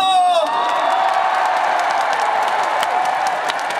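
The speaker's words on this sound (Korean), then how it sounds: "다 같이 박수와 함성!" A large outdoor crowd at the opening ceremony of a provincial sports festival cheers, whoops and claps steadily throughout, a dense continuous roar at a concert stage with a brief shouted voice at the start.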